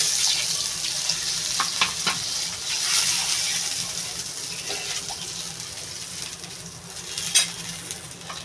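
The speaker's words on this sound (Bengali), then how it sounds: "এই দেখেন তরকারিটা ফুটছে" A home-cooked fish curry with potatoes simmers in a pan, giving a soft, continuous bubbling and sizzling hiss with a few small pops and clinks, close and fairly quiet, with no voices.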